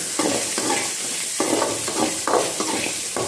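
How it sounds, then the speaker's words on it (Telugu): Onions sizzle in a pan while being stirred for a drumstick fry, with a constant close crackle and several distinct scraping stirs at irregular intervals. "ఆనియన్స్ వేసుకుంటున్నాను ఆనియన్స్ వేసుకున్న తర్వాత ఇదంతా వేగినాక కొద్దిసేపు వేయించుతున్నాము"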